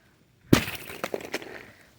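Thin ice about a quarter inch thick breaking in frozen winter woods, a sharp crack and shatter followed by a brief scatter of tinkling, glassy fragments settling close by.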